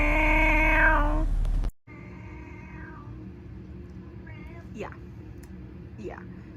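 A human voice imitates a cat meowing, giving a series of drawn-out, whiny meows that first run together loudly, then continue as quieter, separate calls after an abrupt cut.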